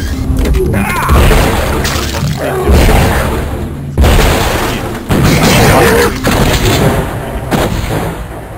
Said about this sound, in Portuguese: Essa minha munição explosiva aí tá feio o negócio